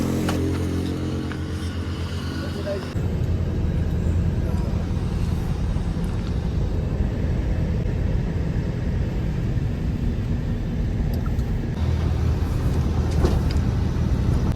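Truck cruising non-stop on a wide highway in Rajasthan, heard from inside the cab as a loud, steady low engine and road rumble that holds throughout with little change.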